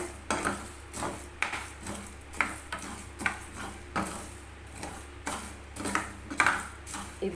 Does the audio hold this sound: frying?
yes